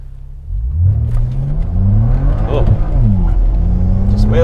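A BMW E92 335i with the N54 engine launches hard with wheel spin, its revs climbing and shifting in a loud rising drone heard from inside the car, with voices over it.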